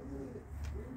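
Racing pigeons coo softly in a loft during a visit by Polish breeders, a low murmuring burble that runs steadily through the moment with no talk over it.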